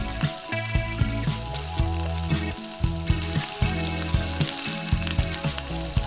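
Grated garlic and ginger fry in oil with bay leaves, cinnamon and cloves for kabli chana ghugni, a continuous crackling sizzle beneath rhythmic background music, stirred throughout.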